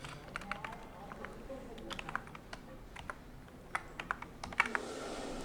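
Students' marks being typed on a computer keyboard, with scattered quick key clicks in short bursts over a low room hum.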